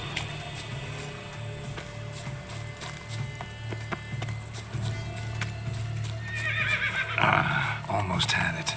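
Horse whinnying in The Witcher 3: Wild Hunt, a rising neigh near the end over steady clip-clop hoofbeats, game ambience and a low hum, with speech throughout.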